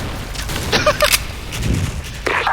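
Grenade blasts and gunfire in the Special Force online shooter, a burst of sharp crackling shots and booms with a low thump, fairly loud over a constant background din, with a voice faintly present.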